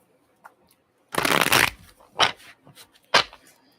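A deck of tarot cards shuffled up close: one long riffling burst followed by two shorter flicks and faint taps, loud and crisp against an otherwise quiet room.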